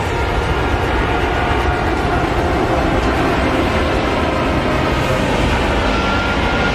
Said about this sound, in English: flying in from your right in a Vic formation is the RSAF's newly acquired A330 multi-role tanker transport aircraft, escorted by 2 F-15 SG Eagles